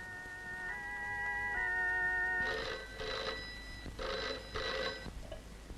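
Telephone in an older film scene: a few tonal beeps like dialing, then several evenly spaced bursts of bell ringing, fairly quiet and with no voices.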